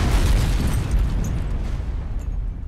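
A cartoon-style rocket explosion: a loud, rumbling blast that starts at full force and rolls on as a long, dense roar of crackling debris. It fades only slightly over nearly three seconds, with no voices.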